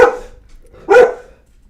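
A big dog named Max lets out two loud, close woofs, the second one fuller, with a short quiet gap between them.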